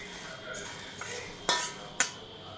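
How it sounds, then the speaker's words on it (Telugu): Coriander seeds dry roasting in a pan, a light rustling rattle as they are stirred, with two sharp metallic scrapes of a spoon against the pan. "ఫ్రై అయిపోయినాయండి ధనియాలు కూడా."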